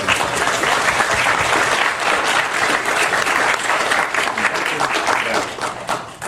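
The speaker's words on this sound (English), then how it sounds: "I want to give Tom another round of applause for that" Audience at a crime convention giving a loud, sustained round of applause, dense clapping from a large crowd that tapers slightly near the end.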